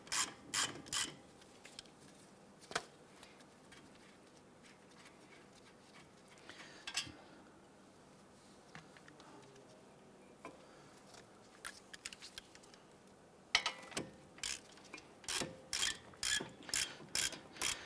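Ratchet wrench loosening two 17mm caliper bracket bolts on the rear side of a brake caliper on a 2012-2017 Toyota Camry, with bursts of rapid clicking near the start, a quieter middle stretch, then a dense run of repeated ratchet strokes at the end.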